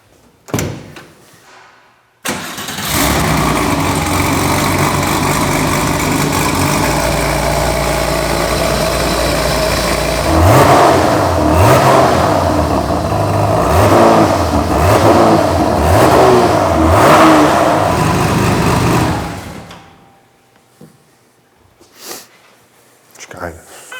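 A Porsche 964 backdate restomod, lightened to a 1091 kg curb weight, starts abruptly and idles loudly before several sharp rising revs. The engine then cuts off into near silence.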